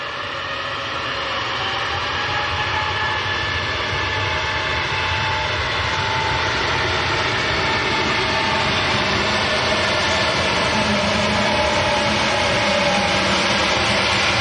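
A Lufthansa A320neo jet departs Manchester Airport for Munich, a steady broad roar of engine noise that holds loud and constant throughout, with no pauses or talk over it.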